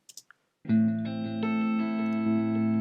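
A few faint clicks, then a sustained, full-bodied distorted guitar chord rings out with a spacious, reverberant shimmer tail, the reverb cut 14 dB with a wide EQ.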